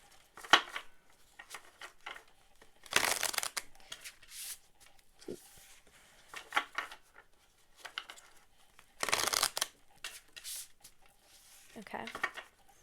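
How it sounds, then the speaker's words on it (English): Tarot cards are shuffled in several separate bursts of riffling and rustling, close and crisp, with quiet pauses and handling noises between them. "I'm going to give it a few good shuffles."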